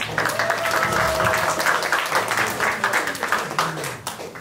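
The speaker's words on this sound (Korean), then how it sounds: "우리 구자인 박사님 멀리서 오셨는데 박수 한번 쳐드릴까요?" Audience applause in a salon-style gathering, a steady wash of clapping from a room of people that holds for several seconds with faint murmuring underneath.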